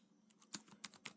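A handful of quiet, close keystrokes on a computer keyboard, a few irregular clicks over about a second with a faint steady hum underneath.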